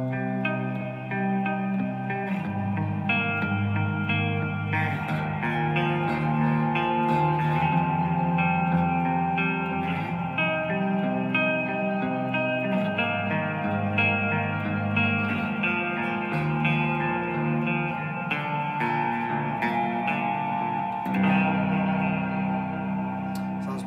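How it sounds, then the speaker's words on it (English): An Ibanez S521 electric guitar played clean through a digital amp with reverb sounds out sustained, ringing chords and notes with a spacious echoing tail, alone and without talk. "I'll turn the effects up a little bit just to give it a bit more depth. Turn the reverb up."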